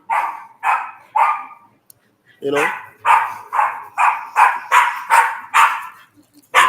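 A dog barks repeatedly somewhere nearby, a run of loud sharp barks in an irregular then steady rhythm, with a brief spoken remark between them.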